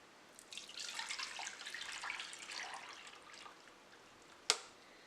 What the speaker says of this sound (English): So we are pouring this in.